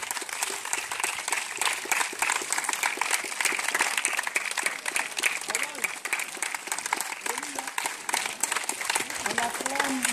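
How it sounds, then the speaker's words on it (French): Church congregation applauding and cheering in acclamation of Jesus during a deliverance prayer session, with dense, sustained clapping and crowd voices at steady loudness throughout. "Est-ce que tu peux acclamer Jésus?"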